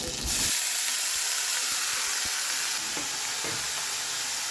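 Potatoes fry in oil in a large wok, producing a loud, continuous sizzle close by, punctuated by occasional sharp clicks and taps from stirring.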